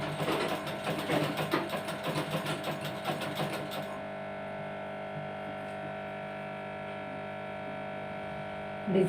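A sewing machine stitches cloth for a tailoring job, running in rapid rhythmic bursts for about four seconds before dropping to a steady low hum. A voice talks over the stitching.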